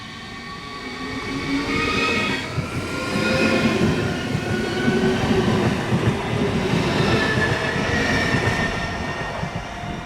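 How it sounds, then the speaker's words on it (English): Regional train RB17 bound for Wismar in Mecklenburg, moving at trackside with a loud sustained rumble, rolling wheel noise and faint clacking that swell and ease over ten seconds, with no voices. "the train I came with will go back to Wismar, still as"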